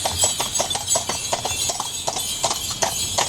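Horse hooves clip-clop in a steady, close rhythm as a horse-drawn carriage carries several passengers through the streets of Ponta Delgada, Portugal, with no talk over the hoofbeats.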